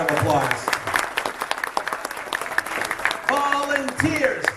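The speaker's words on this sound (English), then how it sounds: "So please give them a round of applause." A convention audience at closing ceremonies applauds the volunteers with sustained, fairly loud clapping, while voices cheer and call out over it, louder near the start and again toward the end.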